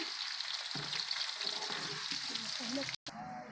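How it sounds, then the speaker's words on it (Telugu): Garlic paste, coarsely pounded raw, sizzles and fries in an oil-filled pan with fenugreek and cumin for a mango pickle, stirred through steadily; a loud, constant hiss with a brief cut near the end, and a voice talks over it. "ఇప్పుడు మనం కచ్చా పచ్చగా దంచి పెట్టుకున్న ఎల్లిపాయ ముద్ద వేసేసుకోవాలి ఇలా వేసేసుకొని ఈ విధంగా కలుపుకోవాలి"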